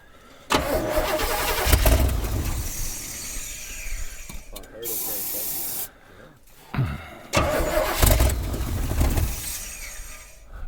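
A 1976 Chevy C30 truck, left sitting for 30 years under a tree, cranks over several times on starting fluid before its engine catches and runs, loud and close, with brief pauses between attempts and voices nearby.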